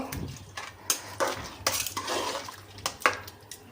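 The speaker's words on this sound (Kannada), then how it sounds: "ಚೆನ್ನಾಗಿ ಹಾಕಿ ಹಾಗೆ ತಿರುಗಿಸ್ತಾ ಇರಬೇಕು" A spoon scraping and clinking around a pot of basmati rice payasam being stirred, with irregular metallic knocks and soft wet swishes, close by with no talk.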